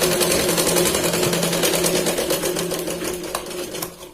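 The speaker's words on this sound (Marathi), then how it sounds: "कुठल्याही प्रकारचं खालीवर न होता अगदी एंड पर्यंत आपण व्यवस्थित इथे शिलाई लावतोय" A sewing machine stitching a Katori blouse, its needle running in a fast, steady close-up rattle that slows and stops near the end, with no voices.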